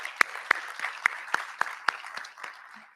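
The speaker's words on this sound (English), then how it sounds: "Let us give them a round of applause." A small audience at an awards ceremony gives sparse applause: a dozen or so distinct hand claps in an uneven rhythm that thin out and fade over a few seconds.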